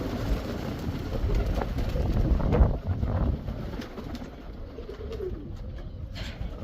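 Several pigeons coo close by in a soft, throaty, repeated murmur, with some wind rumble behind them.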